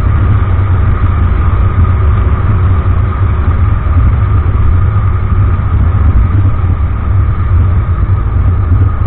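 A large vehicle's engine rumbles steadily on a road at dawn, a loud, continuous low drone with idling and engine tone that holds level throughout, with no talk over it.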